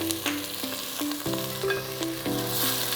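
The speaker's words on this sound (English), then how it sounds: "We're going to add this white wine in here." White wine poured into a hot pan to deglaze it while making chicken cacciatore, a strong, continuous sizzle with stirring scrapes and clinks, fairly close and without talk.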